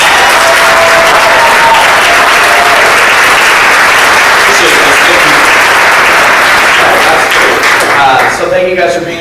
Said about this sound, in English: can you give these gentlemen one more huge round of applause?